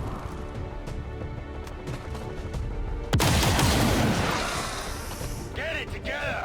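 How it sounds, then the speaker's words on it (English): Assault rifle fire in the tactical strategy game XCOM 2, a single loud blast cutting through steady background game audio and fading into a noisy tail. "he's a pretty good shot with that assault rifle"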